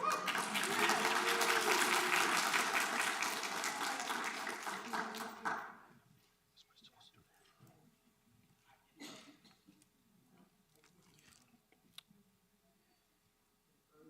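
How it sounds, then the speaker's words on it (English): High school graduates stand and applaud their parents and family at a commencement ceremony, a thick wash of clapping that cuts off abruptly, followed by quiet hall noise and a few scattered sounds. "please stand at this time and turn around and applaud your parents and family for helping you get where you are today"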